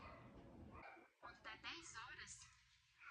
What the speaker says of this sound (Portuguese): O cachorro começou a latir. O cachorro do vizinho.